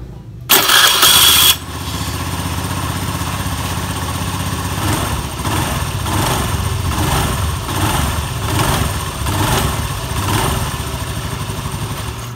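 A motorcycle with its CVT cover removed starts up with a brief, sharp burst, then idles steadily up close with a rough mechanical clatter and rhythmic rises and falls in the drive, with no talking over it.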